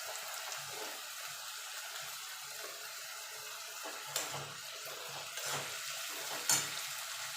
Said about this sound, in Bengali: এবার কিছু গুঁড়ো মশলা দিয়ে দেবো, ধনের গুঁড়ো, জিরের গুঁড়ো, হলুদ গুঁড়ো